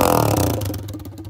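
A pit bike revving with its silencer completely off the exhaust, giving a loud, raw, rasping engine note that rises and holds for a brief moment up close.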